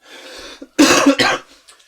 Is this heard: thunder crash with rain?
no